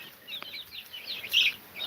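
A half-grown chicken released outdoors gives a few short, high chirping clucks close by, spaced irregularly, with one louder call near the end.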